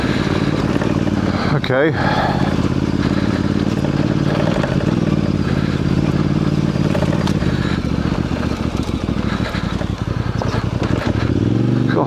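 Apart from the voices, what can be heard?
Voge DS625X motorcycle riding off-road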